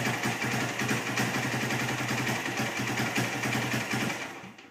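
A Honda CB125S motorcycle engine runs without choke, a fast, rough, pulsing idle close to the microphone that holds steady and then fades as it dies out at the end.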